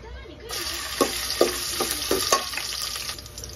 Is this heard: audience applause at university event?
no